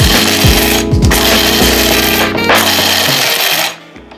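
Electric blade grinder whirring loudly through whole coffee beans for a coarse cold-brew grind, a steady motor buzz broken by a few quick pulses before it cuts off near the end.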